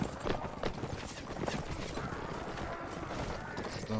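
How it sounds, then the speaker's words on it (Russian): Horse hooves clip-clop at a steady canter in Mount & Blade Warband, the Total Battle mod, a dense rhythmic patter of rapid beats held close and loud throughout, with battle noise beneath and no clear talk. "Что-то надоело мне на этой медленной лошади крутиться тут."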